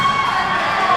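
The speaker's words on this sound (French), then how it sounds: "La foule applaudit" A crowd at a 64 kg boxing bout cheers and shouts in a loud, dense wash of voices, brief and continuous.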